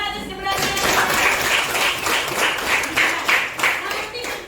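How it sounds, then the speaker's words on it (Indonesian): A school class clapping hands together in a classroom, a brisk burst of many claps at close range that keeps a fairly even rhythm for several seconds before tapering off. "Tepuk tangan atas keberanian."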